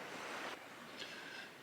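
River water flows in a soft, airy rush near an old mine site on a hike, quiet and steady with a slight swell at the start and a faint splash partway through, no voices.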